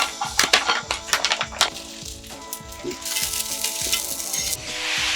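Ben's Original rice warms in a frying pan at an ice camping site, sizzling and crackling steadily, with rhythmic scraping stirs in the opening seconds and a continuous frying hiss throughout.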